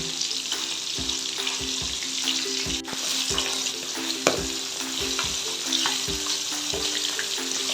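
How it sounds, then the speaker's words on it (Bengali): Pieces of pona or katla fish fry in hot oil with a steady, close sizzle and crackle, and repeated soft stirring and scraping clicks run through it. "তেলটা গরম হয়েছে, এবার আমি মাছগুলো ছেড়ে দিচ্ছি। ভালো করে আমি ভেজে নেব।"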